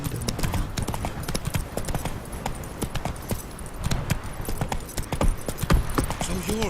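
Roach the horse gallops in The Witcher 3 video game, with fast, steady, close hoof beats pounding throughout while a character talks over them.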